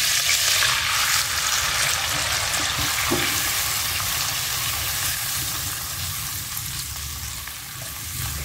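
Ground spice paste sizzles and crackles steadily in hot oil as it is sautéed for Padang-style squid, with a dense, even frying hiss and faint stirring throughout, no voices.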